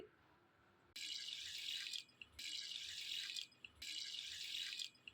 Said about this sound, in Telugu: ఆ గ్లాస్తో మూడు గ్లాసులు వాటర్ పోసుకోవాలి